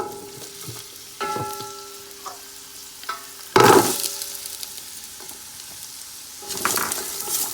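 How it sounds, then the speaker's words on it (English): Carrots added to onions frying in a pan, a close sizzle punctuated by scraping stirs and one loud burst of hissing as the vegetables hit the hot oil, with faint background music. "I'm gonna give it a little stir. And I'm gonna add the carrots in here"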